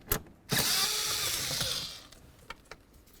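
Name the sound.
power tool removing mounting bolts in Ford Explorer dash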